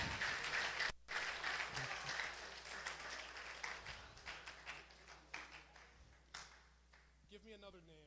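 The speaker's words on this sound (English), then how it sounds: "Everyone give Eli a round of applause." Classroom applause for a student, a burst of clapping from a group that thins into scattered taps before a voice starts speaking over the fading claps.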